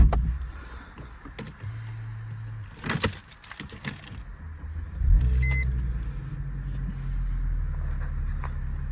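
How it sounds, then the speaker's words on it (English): A 2000 Mercedes SLK 320 R170 V6 engine cranks and catches around the midpoint, then settles into a quiet, smooth low idle, after some earlier clicks and thumps. "that gives me a good excuse to fire up that beautiful V6 engine"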